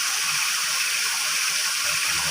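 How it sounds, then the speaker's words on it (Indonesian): Singokromo waterfall in Nganjuk pours down in a loud, steady rushing roar of falling water, a constant broadband hiss heard close up and alone. "Kita berada di air terjun Singokromo."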